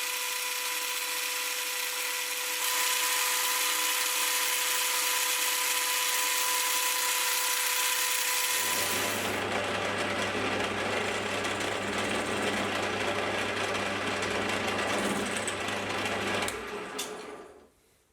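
A lathe rounds off the sides of a massive 270 cm tap wrench, its steady machine whine running loud and continuous before shifting to a lower, rougher cutting drone that fades out at the end.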